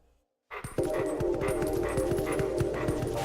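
Wolf Link, the wolf form of Link in the video game Twilight Princess, barking and yipping in a rapid, steady series of close, loud bursts over game music.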